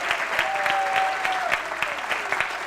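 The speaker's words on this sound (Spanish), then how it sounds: "Dale un aplauso al Señor." A church congregation claps together, steady close applause that runs throughout at even strength, with a sustained sung or played tone faintly underneath.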